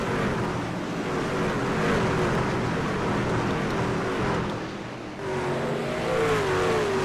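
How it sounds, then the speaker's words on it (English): A race truck engine roars at Indianapolis Raceway Park, a loud, continuous droning rush with a brief dip midway, as if passing close by. "Just in front of them is Justin Day in this black and blue Bang Energy truck"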